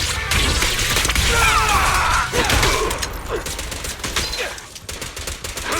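Gunfire in the action game Zenless Zone Zero, dense rapid shots and impacts mixed with combat effects, loud and continuous before thinning into scattered hits.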